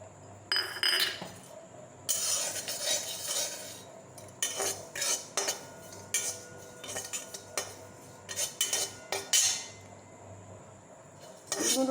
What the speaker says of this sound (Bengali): আমি আগে এই তিলগুলো ভেজে নেব